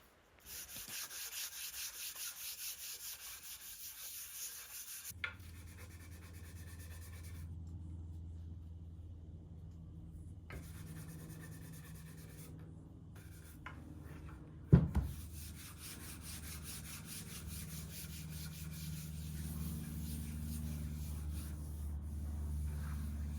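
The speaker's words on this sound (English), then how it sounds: "Now I'm going to finish the sanding by hand." Steady, scratchy rubbing of fine-grit sandpaper worked by hand over an end-grain wooden chopping board, continuous and close, with a couple of brief knocks.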